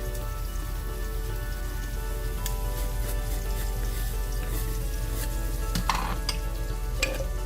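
Two pans of chicken curry sizzle steadily on a stovetop, a continuous crackling hiss with a few brief clinks near the end and no talking.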